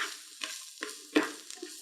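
Cholla buds and onions cooking together in a pan, a soft sizzle broken by several distinct stirring scrapes, close and fairly quiet, no speech.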